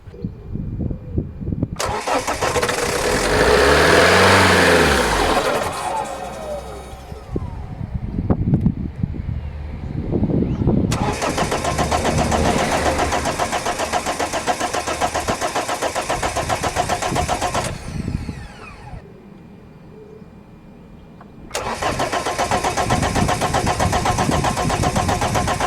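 A Ford Focus 1.8 TDCi diesel engine cranks over repeatedly in loud, close starter bursts with short pauses between them, failing to catch after a service where air in the fuel system needs bleeding.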